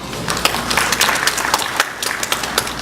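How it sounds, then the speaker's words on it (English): An audience at a school employee retirement dinner applauds a retiring staff member, a steady wash of many hands clapping at close range that carries on evenly throughout. "after each name is announced, then we can certainly congratulate them with a round of applause"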